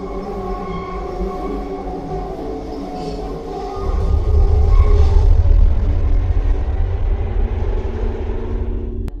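A subway train runs through a dark tunnel. A steady mechanical drone swells about midway into a loud, deep, continuous rumble that holds to the end, with no voices.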